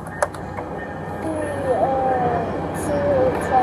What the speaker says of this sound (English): I can't hear you because that train.